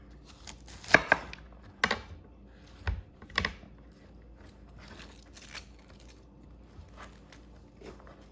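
A kitchen knife trims and chops broccoli and cauliflower on a cutting board, giving a handful of sharp, scattered cuts with quiet pauses between them and no talking.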